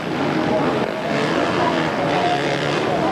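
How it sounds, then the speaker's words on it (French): Motocross bikes, a Honda among them, race in an MX1 event in Sweden, their engines a steady broad roar that runs continuously without a break and is fairly loud and close. "Là c'est son coéquipier Cédric Melotte, toujours en bagarre pour la 10e place avec James Noble sur la Honda numéro 10."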